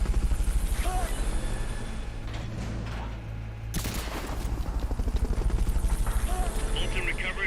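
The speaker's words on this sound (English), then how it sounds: "Fulton recovery helicopter is complete" Fulton recovery helicopter in Metal Gear Solid: Peace Walker, a loud steady rotor thump with a sudden whooshing burst midway, talking layered over it.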